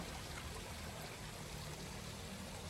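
Water runs steadily from a small garden fountain spilling into a little koi pond at a home in Bali, a continuous near, even splashing wash with no voices.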